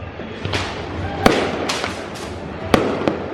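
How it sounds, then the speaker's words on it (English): Diwali fireworks burst over Udaipur, seen from a hotel rooftop: several sharp bangs and crackles ring out at irregular intervals, two of them louder, above a steady wash of distant festive noise and crowd murmur. "on the rooftop of our hotel, got the fireworks show"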